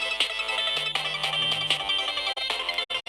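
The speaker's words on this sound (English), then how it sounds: "Phone appears to be ringing." A phone ringtone plays during a horror investigation video game, a steady repeating electronic melody ringing loudly and alone for about three seconds before cutting off.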